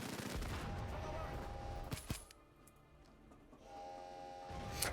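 Gunfire and explosions erupt during a heist in the video game Payday 2, a loud dense fusillade with a sharp burst near the middle, a brief dip, then the barrage swelling again, with faint talk underneath.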